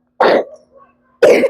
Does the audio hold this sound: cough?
yes